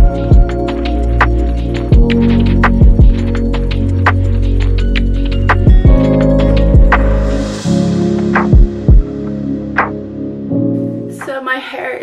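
A hair dryer blowing hair dry makes a loud, close, steady motor hum with a throbbing edge, briefly broken by short interruptions, and cuts out near the end.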